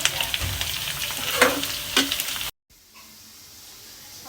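Onions browning in a pan hiss and sizzle loudly while being stirred, with scraping bursts, before the sound cuts briefly and returns as a quieter, steady frying crackle.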